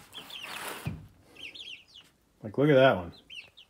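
Polish hens cluck and chirp close by in short, scattered bursts, with a soft-spoken voice talking in between.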